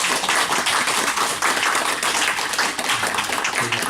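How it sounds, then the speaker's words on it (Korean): A church congregation at a Friday evening worship service claps to welcome a visiting missionary pastor, a loud, dense applause that holds steady for the full stretch from many hands close by. "한번 박수해 드리세요."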